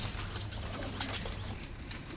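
Malwai pigeons with red feet coo steadily at close range, a low throaty rolling call that repeats over a constant background hum.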